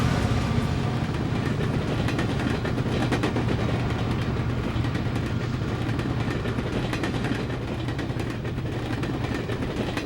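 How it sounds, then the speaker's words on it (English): A pair of new B&O GP9 diesel locomotives rolls south at Rossford Yard in Toledo, Ohio, a dense, continuous engine drone with rail clatter running steadily the whole time, no voices. "a pair of brand new GP9s is heading south at Rossford Yard in Toledo, Ohio"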